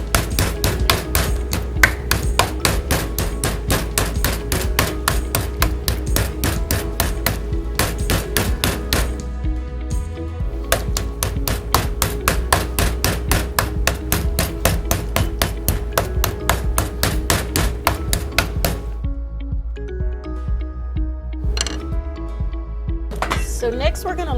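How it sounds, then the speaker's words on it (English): A cook pounds pork tenderloin with a mallet to tenderize it, delivering rapid, loud, repeated thuds in fast bursts with a brief pause midway, close by and continuous over the whole stretch. "It's gonna be real loud while I'm pounding this out, so while she's mixing that up, I'll go ahead and tenderize the pork tenderloin."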